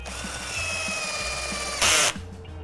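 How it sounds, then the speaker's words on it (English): A power drill drives composite screws into lid end pieces, giving a steady whining motor hum that rises into a brief louder burst as a screw seats, then stops. "we'll screw these together"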